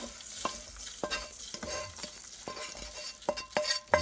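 Toasted sesame seeds poured into a blender to make gomasio, a soft irregular rattle and patter of small seeds with a few sharper clicks, quiet and close, growing busier toward the end.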